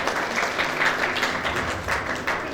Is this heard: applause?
yes